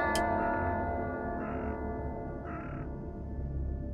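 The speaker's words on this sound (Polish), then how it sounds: "kruki nigdy" Ravens caw near a graveyard in the Madison video game, a few harsh, spaced calls sounding moderately close over a steady low ambient drone, with no talking.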